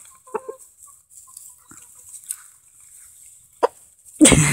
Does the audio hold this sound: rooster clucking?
yes